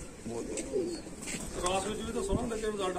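Large, sturdy pigeons coo in soft, rolling bursts close by, with a faint background murmur of voices underneath.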